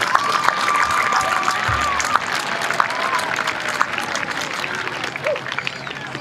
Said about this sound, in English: please, let's give our town board and our supervisor a big round of applause.